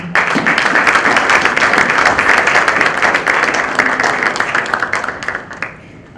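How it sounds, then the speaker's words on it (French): A crowd at a book launch vernissage applauds itself, loud dense clapping from many people close by that holds steady and then fades out toward the end. "Est-ce que vous pouvez applaudir pour vous,"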